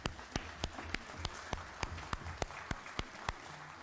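Members of a national assembly clapping in the chamber, a sparse, fairly quiet round of distinct individual claps with a loose rhythm over a faint room hum.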